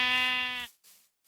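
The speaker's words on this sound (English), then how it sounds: "Goodness, those sheep are loud." A sheep in the Minecraft video game gives one loud, nasal bleat lasting just over half a second, then near silence with a faint brief rustle.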